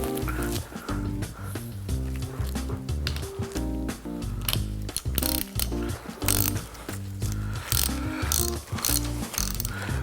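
A ratchet tool tightens the 11mm foot nut on the damper side of an XFUSION RL2 bicycle suspension fork, giving a steady stream of rapid mechanical clicking throughout.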